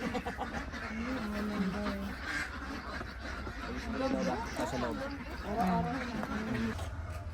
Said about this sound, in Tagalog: Mga native na talaga na manok.